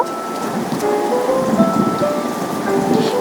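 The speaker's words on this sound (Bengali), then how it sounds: "এবার এই ফোড়নগুলোকে দুই থেকে তিন মিনিটের মতো ভালো করে ভেজে নিব" Cumin seeds and whole spices fry in hot oil, a dense and continuous crackling sizzle that stays loud and even throughout with no talking.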